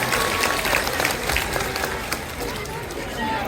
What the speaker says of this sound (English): how about a big round of applause for Amali before we head through